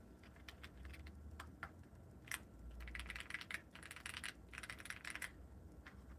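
Keys clicking on a newly built custom mechanical keyboard, a quiet, soft typing patter of scattered keystrokes and short bursts, close by and fairly muted.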